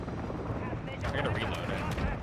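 A Call of Duty MW2 close air support strike rumbles with booming gunfire and explosions, loud and dense, building in the second half, while players talk over it.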